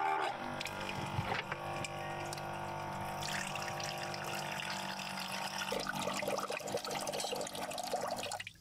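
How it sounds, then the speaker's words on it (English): Water pours and splashes steadily, as if being drained from a pot into a sink, continuing for several seconds without talk. "I'm actually gonna drain some of that water inside."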